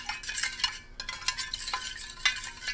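A spoon stirs sugar crystals through about eight ounces of coffee, the grains scraping and rasping against the cup in a steady series of gritty strokes, close and fairly quiet, with no talking.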